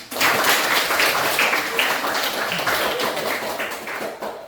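A group of pupils claps hands during a Simon says style classroom game, a dense, loud patter of overlapping claps lasting several seconds.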